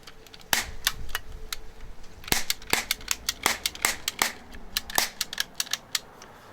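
A Gonher Winchester 73 toy cap gun fires caps in a quick irregular series of sharp, close snaps, roughly a dozen loud cracks with softer clicks of the lever between them.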